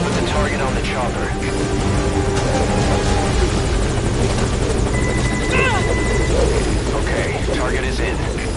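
In the Metal Gear Solid V video game, a helicopter hovers at a landing zone, its loud, steady rotor drone filling the scene while radio chatter and voices talk over it.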